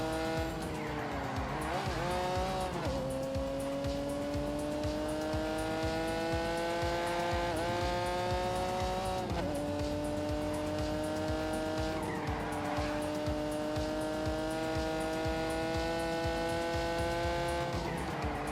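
A racing car in The Grand Tour Game held at full throttle, its loud engine whining steadily and rising through repeated gear shifts, with tire squeal mixed in.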